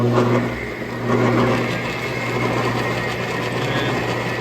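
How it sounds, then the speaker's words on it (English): A metal lathe runs steadily with a left-handed cutter, giving a continuous mechanical hum with a low tonal drone and a faint whirring rattle close by, without speech. "Let me turn on the lathe."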